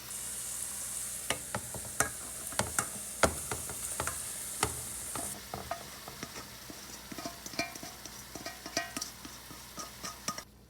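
Marinated soya chunks fry in masala while a spoon stirs them, with repeated sharp scraping clinks against the pan over a soft, low sizzle that quiets partway through.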